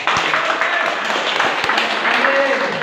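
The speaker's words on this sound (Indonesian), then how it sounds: "Tepuk tangan buat dia." A crowd claps in a continuous patter, with some nearby individual claps standing out, lasting the whole short stretch.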